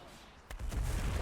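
A cannon in World of Warcraft fires with one sudden heavy boom, followed by a low rumbling roar that keeps going to the end.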